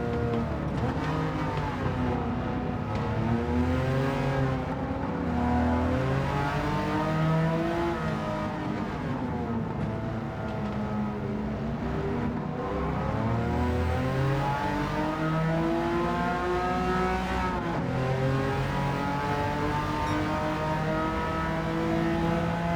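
Vintage race cars, a Porsche and a Plymouth, thunder around Goodwood Revival in Gran Turismo 7, their engines a close, continuous roar that rises and falls with acceleration and gear changes throughout.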